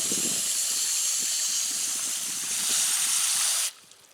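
A garden hose runs fresh water into the bottom tray of a basil microgreens setup, a steady close hiss and gush that continues without pause and then cuts off sharply near the end.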